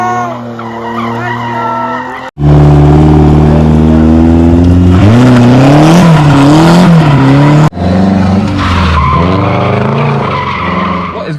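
Cars street drifting, including a 350Z, a RWD WRX and a turbo Miata, scream with loud engine revving and long screeching tire skids, cutting off briefly then resuming in sustained bursts close by.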